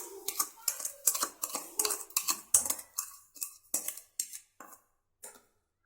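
A spoon stirs sugar into sago payasam in a pot, giving a run of sharp clinks and scrapes at an irregular quick pace that thin out and stop near the end, close and clear with no talk.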